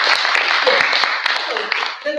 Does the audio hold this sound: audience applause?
yes